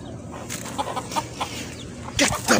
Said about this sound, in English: Bloody chickens.